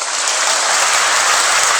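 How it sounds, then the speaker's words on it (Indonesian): Loud, steady applause from a large audience at an Indonesian religious gathering, a dense wash of clapping that holds evenly throughout without talk. "Tepuk tangannya untuk masjid dan musolanya."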